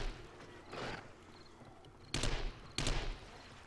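Several bursts of gunfire from a heavily recoiling gun in the zombie survival game 7 Days to Die, a few sharp loud shots spaced apart over low background noise.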